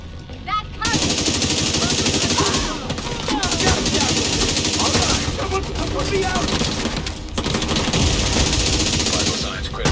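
Dense incendiary-bullet gunfire in a video game crackles and rattles almost continuously, loud and close, with rapid bursts, brief gaps and a voice talking underneath.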